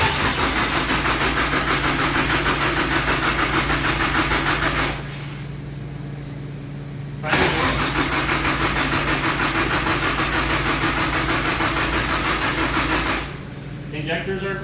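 The SR20-swapped Nissan 300ZX cranks without catching, a rapid, loud, rhythmic starter churn that stops, pauses, then cranks again before cutting out, with voices talking in between.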